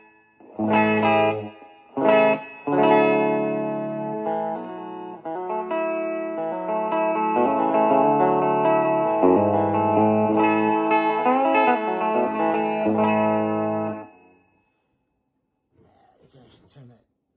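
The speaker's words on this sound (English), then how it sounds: "Totally dry sound from a Boss Katana. And turn on the reverb." Electric guitar through a Boss Katana amp with its reverb effect switched on, a few sustained chords ringing out with a spacious wash for about fourteen seconds, followed by a short faint tail.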